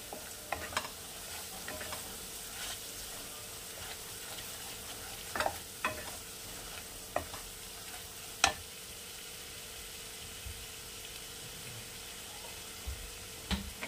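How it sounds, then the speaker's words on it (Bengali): Katla fish korma with ground spices stirred in a pan, giving a faint, steady low sizzle with occasional sharp clinks and scrapes of the spoon, quiet and close. "আবার এটাকে আমি নাড়াচাড়া করবো"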